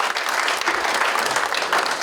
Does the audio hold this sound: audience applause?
yes